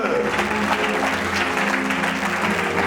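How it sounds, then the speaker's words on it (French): A church congregation clapping together, dense sustained applause filling the room, loud and continuous without any break. "Acclame très bien Jésus. Acclame très bien le Créateur."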